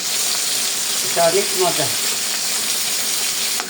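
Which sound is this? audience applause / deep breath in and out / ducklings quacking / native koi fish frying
native koi fish frying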